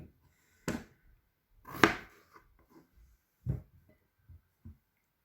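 A knife cuts peeled potatoes into pieces on a board, giving sparse, sharp chopping knocks at irregular intervals, some louder and some soft, with no talking.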